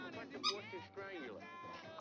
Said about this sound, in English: Who's got a squeak toy?